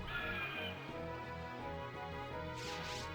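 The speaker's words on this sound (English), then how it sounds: "Meganium had like generic hawk sound" Meganium's cry in Pokémon Stadium 2, a generic hawk-like screech, rings out once, loud and close, with a harsh buzzy tone and no talking over it.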